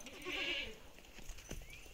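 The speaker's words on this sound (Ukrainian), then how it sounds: "Їдять мої кози всі" A goat bleats once, faint and somewhat distant, in a quiet rural yard with low background noise.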